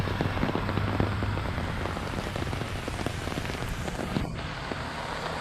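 Rain pours steadily on the ground and nearby surfaces outdoors, a dense continuous patter of close drops with no pauses, heard while walking along without any voices.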